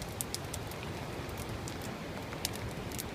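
Rain falling on a winter campsite, a steady soft patter with scattered sharper drops hitting nearby surfaces, no voices.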